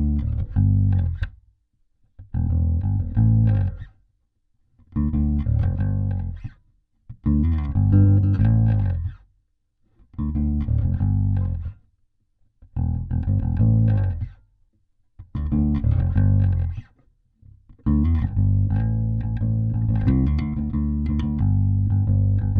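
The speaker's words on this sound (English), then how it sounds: "today I'm playing the Aguilar Tone Hammer in the SL410X cabinet" A bass guitar plays through an Aguilar Tone Hammer amp into an SL410X cabinet, a warm deep tone in repeated phrases of held notes separated by short silences, alone without talk.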